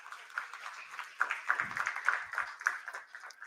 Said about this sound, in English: Round of applause for the three pillars that we have.